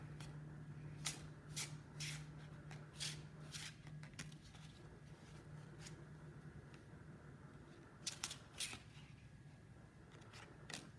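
Tarot cards are handled and drawn from the deck in soft, papery shuffles and flicks, several brief bursts spread across a quiet room, close and faint, with no speech.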